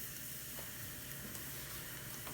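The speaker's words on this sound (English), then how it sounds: "Let that splutter. I'm adding about half a spoon of jeera or cumin seeds." Cumin (jeera) seeds spluttering in hot oil while cooking spicy Andhra sorakaya pachadi, a steady close sizzle with faint scattered pops and no talk.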